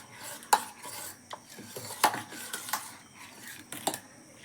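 Kulith flour pithi being stirred into water in a pot, with a few sharp metallic clinks of a spoon against the vessel among soft swishing strokes, close up and with no speech.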